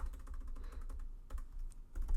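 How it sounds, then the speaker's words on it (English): Quick, uneven clicking of keys on a computer keyboard as text is typed, close and fairly quiet with no speech. "Then I'll duplicate it and type in what I have over here."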